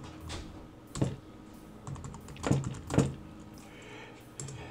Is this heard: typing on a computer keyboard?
yes